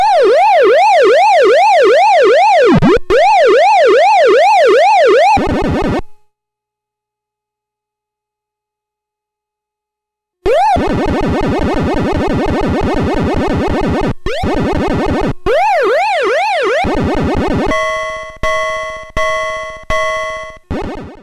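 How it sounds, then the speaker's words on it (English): Extra-life jingle from the Astrocade arcade game Muncher: loud, piercing electronic warbling that sweeps up and down like a siren, breaks off into silence, then returns as rapid buzzing pulses and stepped beeping tones, with no talking. "With a sound effect like that, it really leaves no doubt that you've just received an extra life"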